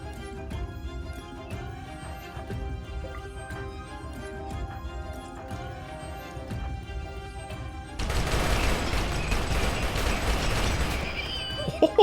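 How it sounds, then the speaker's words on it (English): Gunfire in the RimWorld video game, a rapid string of sharp pops and bursts, then a denser, louder roar of mixed shots and impacts toward the end. "So much gunfire."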